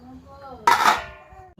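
Plates clatter sharply together in a sudden burst as they are carried, the ringing clink decaying over a second, with faint room noise around it.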